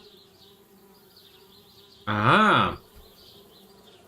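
A single loud bee buzz in the adventure video game Anna's Quest, near a tree house, swelling and fading over less than a second against quiet ambient game sound.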